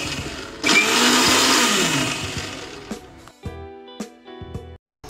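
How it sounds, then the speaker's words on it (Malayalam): A kitchen mixer grinder pulsed on eggless mayonnaise: a single loud whirring burst that starts abruptly, holds for about two seconds and then winds down, after which only a light musical tune and faint clicks remain. "ഇനി മിക്സി ഉപയോഗിച്ച് നമുക്ക് ഇതൊന്ന് അടിച്ചെടുക്കണം"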